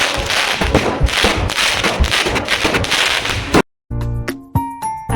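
A 35-shot firework cake goes off at a Lakshmi Puja celebration, firing a loud, rapid run of bursting cracks and thumps for several seconds. It cuts off suddenly and is followed by a short stretch of music.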